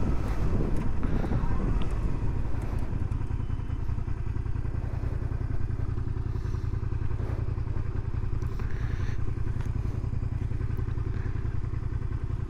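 A Suzuki SV650 S motorcycle rumbles at low speed during a U-turn on a town street, its steady engine drone mixed with heavy wind buffeting on the microphone.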